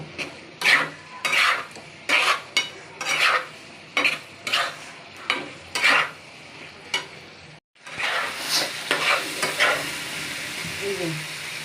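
Chicken kebab bora fry in a pan while a utensil stirs and scrapes in a steady rhythm of sharp bursts over a continuous sizzle, pausing briefly before the stirring resumes.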